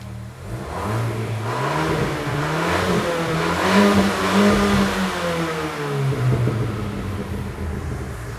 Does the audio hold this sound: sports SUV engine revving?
yes